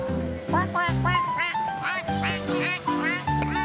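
Ducks quacking repeatedly and close by, a busy chorus of overlapping nasal calls with steady rhythm.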